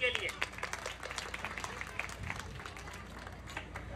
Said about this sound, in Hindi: इनके लिए ढेर सारी तालियां इनकी टीम के लिए